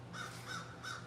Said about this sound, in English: I think the blue jays are yelling at the crows